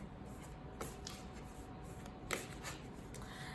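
Oracle cards being shuffled in a quiet room, a steady soft papery riffle with two brief louder flicks standing out, faint and close with no voices.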